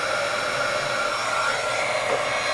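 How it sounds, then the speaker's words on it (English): A small embossing heat gun blowing hot air while it warms up for card making, giving a steady, close, continuous fan whir and airy rush with no pauses. "I'm just going to grab my heat tool"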